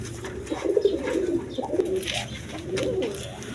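Black lace pigeons cooing steadily, a low throaty rolling coo repeating several times close by, with a faint hiss of background noise and no voices.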